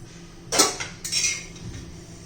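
Roasted black cumin seeds being scooped out of a pan, two quick metallic scrapes and clinks of a spoon against the pan, close and brief, then quiet.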